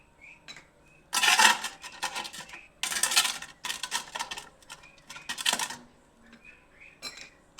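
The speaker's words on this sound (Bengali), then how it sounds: "তো এই পাত্রটিতে আমি চারিদিকে টক দই লাগিয়ে দিচ্ছি" Spoon scraping and clinking around the inside of a pot, spreading sour yogurt over the walls to set sweet misti doi; several bursts of metallic scraping separated by brief pauses, close and fairly quiet, with no talking.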